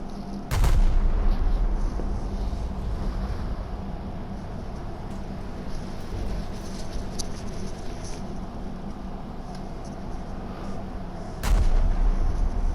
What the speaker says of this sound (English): I'm using my ranging shots as I was instructed to do so